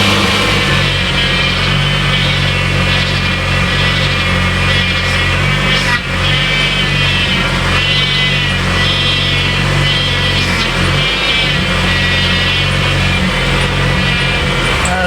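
A Ford Mustang engine idling roughly up close, a loud, continuous low rumble with a steady drone and slight wavering throughout, no voices over it.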